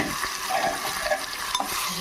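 Cucumber chutney being stirred as it fries in a pan, a steady close sizzle with soft scraping and stirring sounds throughout, no voices.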